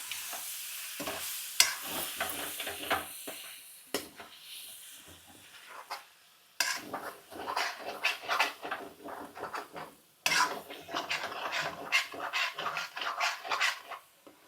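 Chicken masala fried with tender tamarind leaves in a pan, giving a steady near sizzle broken by bursts of scraping and clattering stirring strokes, with short pauses between.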